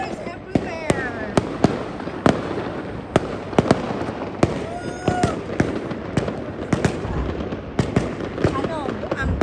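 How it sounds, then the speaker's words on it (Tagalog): New Year fireworks over the Burj Al Arab: a rapid, loud barrage of sharp cracks and booms with crackling in between, while people cheer and talk throughout. "Wow! Fireworks everywhere!"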